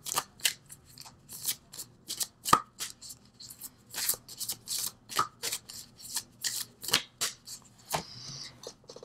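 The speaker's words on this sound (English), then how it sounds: "let me pull an angel card for you just to bring it all together" A deck of angel cards is shuffled by hand in a series of quick, crisp riffling bursts, close and fairly quiet, repeating steadily with short gaps and no talking.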